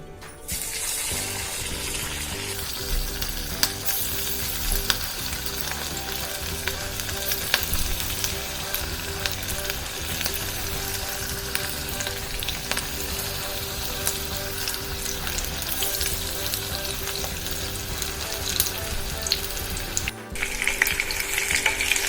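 Battered prawns for koliwada crackle and sizzle steadily in hot oil, a dense continuous frying hiss with a brief pause near the end.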